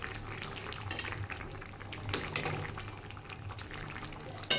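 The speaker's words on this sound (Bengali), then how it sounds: "আর একটু ডালটা আমার সেদ্ধ হবে।" Lentils (dal) simmering in a pot for oats khichuri, a soft continuous bubbling and sputtering close by with small pops and a faint clink near the end.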